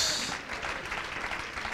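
Church congregation clapping in praise, a dense continuous patter of many hands over a short stretch.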